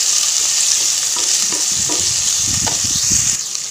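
Finely chopped onion and garlic fry in hot oil, a steady loud sizzle with scattered crackles and occasional stirring scrapes throughout, easing slightly at the very end.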